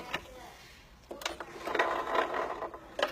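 A sewing machine stitches down a strap while the top thread is held, giving a soft, mid-level mechanical whir that starts after a quiet second and runs fairly steadily to the end, with some light background noise.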